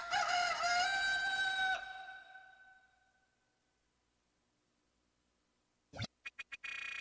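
A rooster crows from afar in the Alundra video game, a single long call that fades into silence before a few sharp bursts of sound follow.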